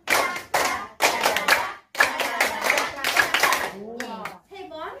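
A room of participants in a Korean laughter-therapy class claps rapidly in a few quick bursts, with chanting voices mixed in over the clapping.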